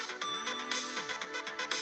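A phone ringtone plays a bright, groovy electronic tune with pulsing beats and a bending melody, steady and fairly loud throughout.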